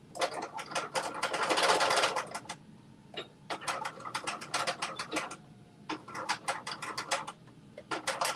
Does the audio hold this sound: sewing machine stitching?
yes